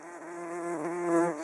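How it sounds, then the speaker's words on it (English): A small carder bee (Bombus pascuorum) buzzes steadily and close on phacelia flowers in late summer, a continuous droning hum that swells slightly in loudness, with no voices. "Oh, here's a little carder bee, look."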